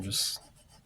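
A pencil drags across paper in one short, quiet scratching stroke that fades quickly into a faint hush.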